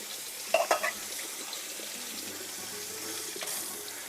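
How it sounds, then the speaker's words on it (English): Canned 15-ounce black beans rinsed under a running tap, a steady soft stream of water with a few brief clattering knocks near the start, and no talking. "I'm using the black bean 15 ounce, so what you want to do is just make sure you rinse them out really well."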